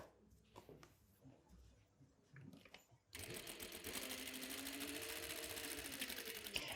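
A sewing machine stitches a pocket on a striped midi summer dress, running loud and steady in the second half after soft handling rustles and quiet.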